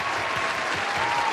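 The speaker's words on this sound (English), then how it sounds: "We'll put in an applause sound effect in there somewhere." A dense, steady wash of crowd applause, loud and close with no pauses, many hands clapping at once and a faint background murmur beneath.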